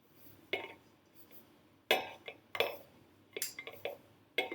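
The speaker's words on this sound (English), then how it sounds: "we're going to try to get all of this off our spoon so we don't waste it" A spoon coated in homemade playdough is scraped clean by hand, giving a handful of separate quiet clinks and taps with short pauses between them and no voices.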